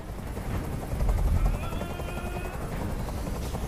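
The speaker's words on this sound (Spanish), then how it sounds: "¡Dile a ese helicóptero que se vaya de aquí!" A helicopter from the Detroit: Become Human video game thrums with a continuous rotor beat, loud and close, swelling briefly then holding steady.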